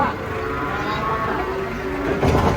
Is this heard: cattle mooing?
yes